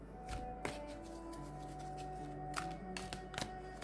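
Two decks of playing cards are shuffled together by hand up close, a soft continuous riffle broken by sharp flicks and taps as the cards snap and settle.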